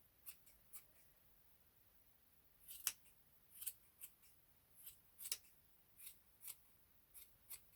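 Scissors snip thread and cord in a series of crisp, separate cuts spaced unevenly about every half second, close and quiet in an otherwise still room.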